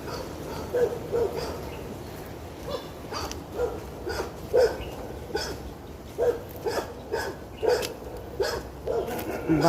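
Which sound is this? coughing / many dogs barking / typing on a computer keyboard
many dogs barking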